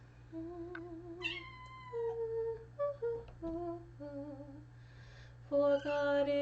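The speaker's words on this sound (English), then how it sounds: "Sorry for the cat interruptions." A house cat meows repeatedly at choir practice, giving a string of drawn-out, pitch-bending cries at varied lengths that end in a louder, longer wail. It is close and clear over a steady low hum, with no talking.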